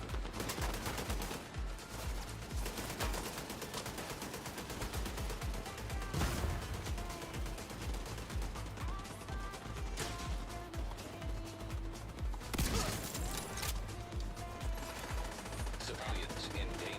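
Sniper rifle fire and combat in The Division 2 video game, with dense repeated gunshots and bursts over continuous battle noise and music, sharper loud cracks standing out near 6 and 12.5 seconds.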